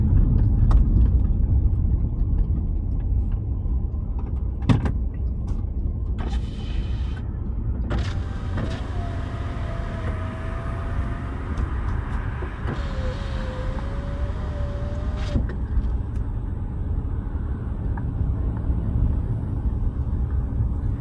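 Steady low rumble of car traffic around Fayetteville, Arkansas, loud and continuous throughout, with a few brief thumps and a faint whining tone passing through the middle.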